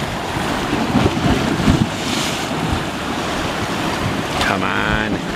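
Loud surf churns and washes continuously at Cave Point County Park, Sturgeon Bay, Wisconsin, a rolling roar of breaking water with a sharper splash near the end.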